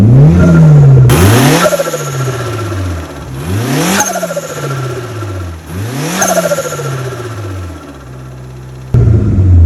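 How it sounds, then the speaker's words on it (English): A 2000 Mitsubishi Lancer Evolution VI Tommi Makinen Edition revs repeatedly in rising pulls, each followed by a sharp whooshing release from its HKS turbo blow-off valve as the revs drop, loud and close. "I want to rev it a little bit so you can hear the HKS blow of valve sounds"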